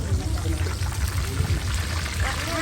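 Water pours steadily into a container while a cold sweet drink is being mixed outdoors by a river, a continuous splashing stream with voices talking nearby.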